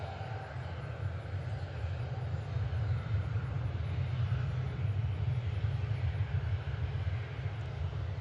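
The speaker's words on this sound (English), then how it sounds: "Buttery smooth landing." A fixed-wing airliner touching down at Reagan National Airport, heard from inside as a steady low engine and airframe rumble with broadband roar holding evenly throughout, no voices over it.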